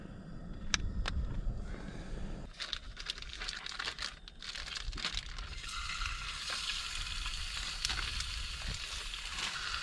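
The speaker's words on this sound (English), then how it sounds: "Heating up, beating up. A little olive oil in the pan." Meat frying in olive oil in a pan, a steady crackling sizzle that brightens and thickens partway through, with occasional sharp clicks of handling close by.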